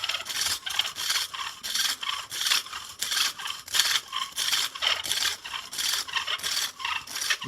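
Steady rhythmic rasping and grinding of a string-driven hand drill biting into copper, repeating in short strokes about twice a second, close up with no talking.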